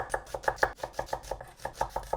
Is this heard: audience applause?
no